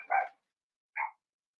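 Two short, sharp dog barks sound indoors at a moderate distance, separated by a pause of nearly a second, with silence in between and afterward.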